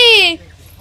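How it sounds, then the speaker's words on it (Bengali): A single short meow, bright and falling in pitch, close by, followed by quiet. "এটা কে মিয়াও কোথায় ছিল এতক্ষণ"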